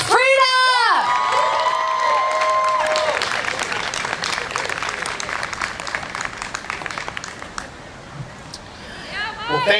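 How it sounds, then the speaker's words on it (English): A Pride Day crowd gathered outdoors claps and cheers for a politician, with dense applause, whoops and children shouting. A loud voice and a tonal sound open the clip, and voices return near the end. "Start clapping right now. Right now. Don't stop clapping."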